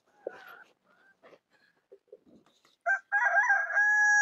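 A rooster crows loudly and close by in a rural home kitchen with a wood-fired stove, a long sustained call closing the moment after a few faint, scattered sounds.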